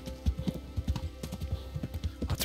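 A horse gallops in the medieval video game Kingdom Come: Deliverance, a quick steady run of muffled hoof thuds with a faint rattle of gear, close and continuous, no talking.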